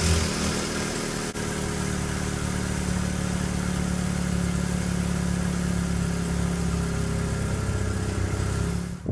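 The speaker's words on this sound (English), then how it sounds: "Let's go ahead and start up the car and see if it makes a difference." Car engine idling after a cut-off exhaust pipe was repaired, a steady, loud low rumble with a deep exhaust drone that holds even from start to finish, no voices.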